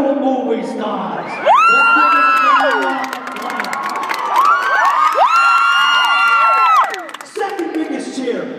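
Big crowd of young fans at a One Direction sound check erupting in loud cheering, high screams and whoops, swelling in two long waves with chatter between.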